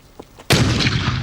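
A single sharp, loud bang with a booming tail, preceded by faint soft knocks; sounds like a carbide cannon fired close by.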